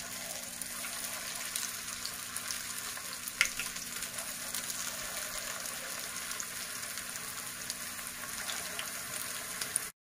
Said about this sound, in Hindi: अब मैं इसमें स्लोली ये नगेट्स फ्राई करूंगी।